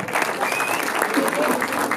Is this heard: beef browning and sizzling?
no